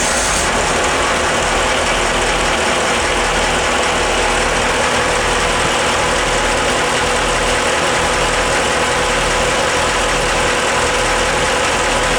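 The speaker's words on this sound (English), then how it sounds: "Fire the other one up so we hear both of them running." Two marine engines on a Portofino catamaran idle together close by, producing a loud, continuous low rumble with a steady, unbroken drone and no talking.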